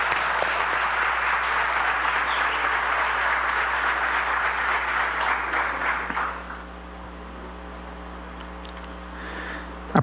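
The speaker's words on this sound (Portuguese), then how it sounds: "Uma salva de palmas para o Sargento, por gentileza" Audience applause for a sergeant at an Army Day ceremony, with dense, loud clapping for about six seconds that then drops away to a low hum and scattered last claps.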